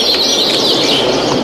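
Galapagos finches twitter in a steady, busy stream of high chirps, loud and close, with several birds calling over each other throughout.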